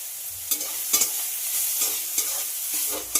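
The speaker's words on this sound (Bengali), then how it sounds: "বেগুনটাকে খুব ভালো করে ভেজে নেব" Eggplant pieces frying in oil crackle with a steady close sizzle, broken by several sharp stirring scrapes at a loose, irregular rhythm.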